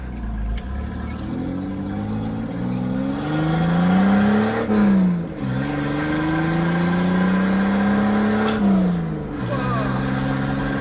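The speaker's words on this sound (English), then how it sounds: "it sounds like you got a hole in your exhaust." A car fitted with a straight-pipe exhaust revs loudly in two long rising pulls, each dropping off sharply before it pulls away, the raw exhaust note dominating close up.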